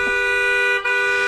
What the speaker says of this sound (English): You're just beeping the horn mad loud out front of the gate.